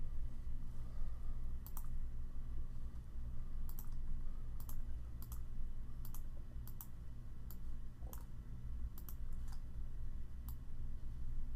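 A computer mouse clicking during label layout work in DesignMerge software: about a dozen sharp, faint, isolated clicks spaced irregularly over a steady low hum.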